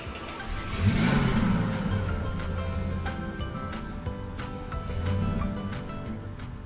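A cartoon police car's engine revs in two loud swells, with a steady motor hum running between them and no voices.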